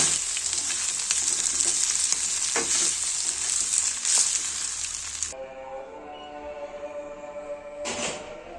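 Spices sizzle loudly in a frying pan for about five seconds, then the sizzle drops to a quieter hiss with a few stirring scrapes and one more brief burst near the end.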